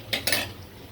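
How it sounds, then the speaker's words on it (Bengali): A spoon scrapes and clatters twice in a pan as spice paste is stirred with a little water. The bursts are short and close, with a soft sizzle underneath. "পানিটা দিয়ে মশলাটা কষিয়ে নিব।"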